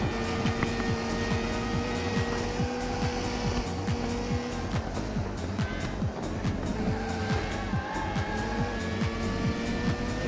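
High-revving racing car engine from the Dreamcast game 24h du Mans, with a steady buzzing whine, repeated gear-shift dips and tire squeals, loud and continuous without talk.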